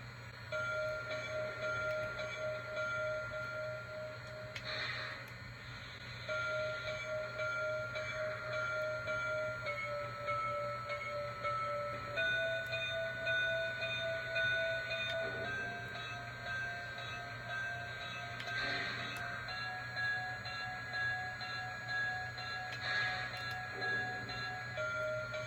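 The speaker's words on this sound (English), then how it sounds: "And here are the 5 bell sounds." A locomotive bell on a New York Central Dreyfuss J3 Hudson steam engine, number 5447, rings in several variations, steady tolling tones running throughout at moderate volume over a constant low rumble.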